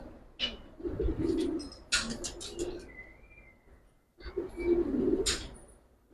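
Giribaz pigeons cooing close by in a run of soft, throaty coos, with a short pause midway before the cooing resumes, plus a thin high whistle-like tone in between.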